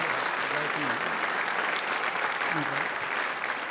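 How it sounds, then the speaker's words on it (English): Dense, sustained applause from the audience at a graduate school hooding ceremony fills the hall evenly, with a voice briefly speaking over it. "let's give a big round of applause to all of the stage faculty"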